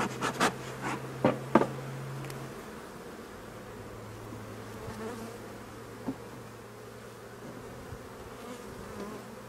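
Honeybees drone in a low, steady buzz close by at an open hive, with a few sharp knocks and taps early on.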